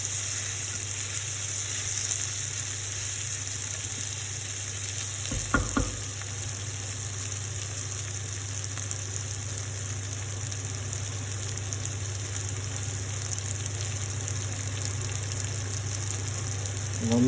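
Garlic and ginger paste sautéing in a pan for a Bengali egg curry: a steady, even frying sizzle with no talk, plus a short stirring scrape about midway.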